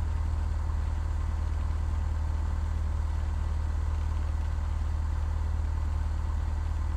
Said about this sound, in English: we're going to be taxiing up the runway